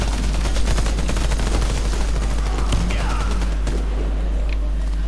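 Dense, continuous automatic gunfire roars through a Warface match, loud and close, with rapid overlapping bursts that ease slightly toward the end.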